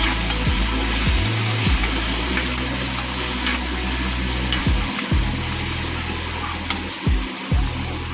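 Potatoes frying in a pan with turmeric and salt are stirred, a steady loud sizzle with periodic low scraping strokes of the spoon throughout.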